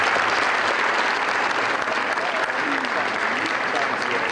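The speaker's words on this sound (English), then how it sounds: "please give everybody here a round of applause" A crowd at a Mr. Olympia bodybuilding press conference applauds loudly and continuously, dense clapping filling the whole stretch without letting up.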